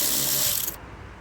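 A ratchet wrench clicks on a 14 millimeter bolt near an electronic parking brake motor. The clicking is brief, close and rapid, and lasts about a second before fading.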